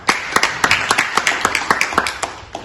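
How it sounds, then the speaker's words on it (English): A small group claps a round of applause, sharp irregular hand claps close by, fairly sparse and loud, lasting a few seconds. "Let us please give them a round of applause"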